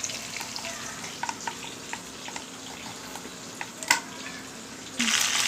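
Bitter gourd rubbed with turmeric and salt fries in hot oil, a dense close sizzle punctuated by sharp clicks and scrapes of a spoon stirring the pan, swelling louder at the end.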